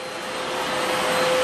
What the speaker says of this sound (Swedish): Här är dammsugaste.